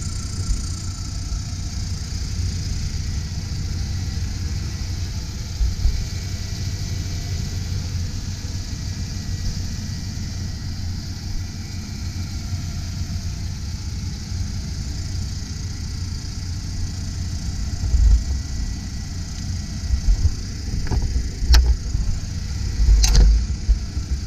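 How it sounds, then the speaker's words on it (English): A 1992 Ford E150 Econoline van engine idles smoothly with a steady low rumble throughout, joined near the end by a few brief clicks and knocks. "Engine appears to be running nice and smooth."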